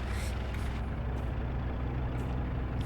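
Class 35 diesel locomotive braking in Train Simulator 2020, a steady low rumble of engine with hissing brake air bursts near the start and around two seconds, continuous and close with no talk.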